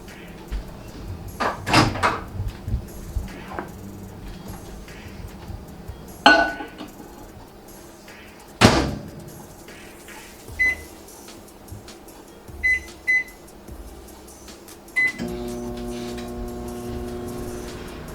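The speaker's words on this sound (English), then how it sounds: "So now we need to microwave it for 1 minute." Kitchen clatter and a door thumping shut, a few button beeps, then a microwave oven starts running with a steady low hum.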